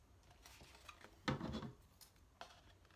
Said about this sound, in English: we're going to use our scissors and we're going to cut little triangles out on both